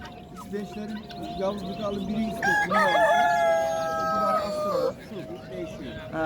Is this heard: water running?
no